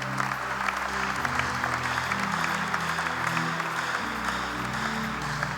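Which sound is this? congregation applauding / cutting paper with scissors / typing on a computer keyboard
congregation applauding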